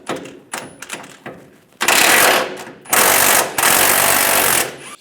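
Impact tool on an 18mm socket taking nuts off a 2007-2013 Chevrolet Silverado 1500 rear bumper end, a few short rattling taps and then two long, loud hammering bursts, close up.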